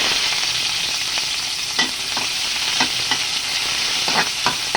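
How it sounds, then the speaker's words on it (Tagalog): Garlic and onion sauté in hot oil for mung bean stew, a loud, dense, continuous sizzle up close with scattered spatter pops and light stirring taps. "Magigisa muna tayo ng bawang,"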